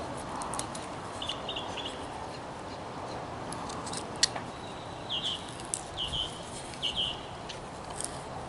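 A knife whittles a wooden alien figure, giving quiet, close scraping cuts in short bursts with occasional sharp clicks and squeaky high chirps, fairly faint overall.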